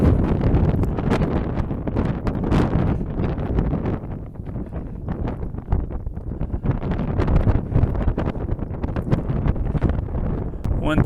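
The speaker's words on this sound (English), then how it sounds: "The wind has definitely picked up" Strong desert wind buffets the microphone on an open trail at White Sands, a constant loud rumbling roar with gusty bursts throughout, a voice barely surfacing beneath it.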